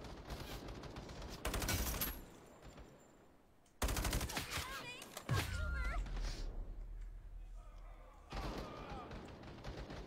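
Gunfire from a weapon in the video game Battle Teams 2, with loud rapid bursts that start and stop abruptly, separated by quieter stretches of game ambience and effects, while someone talks over them.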